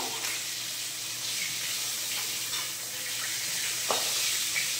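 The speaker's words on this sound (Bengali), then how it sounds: "মাছগুলো আমার খুব সুন্দর লাল লাল ভাজা হয়ে গিয়েছে" Fish fry in hot oil in a pan with a steady, dense sizzle that holds evenly throughout, close and bright, with a faint clink near the end and no talking.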